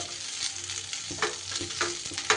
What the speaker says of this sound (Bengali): এইবার লো টু মিডিয়াম ফ্লেমে 3 থেকে 4 মিনিট এইভাবে টিফিনগুলো একটু নাড়িয়ে চাড়িয়ে